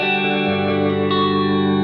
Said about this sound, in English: let's talk about some reverb courtesy of the Keeley Caverns V2.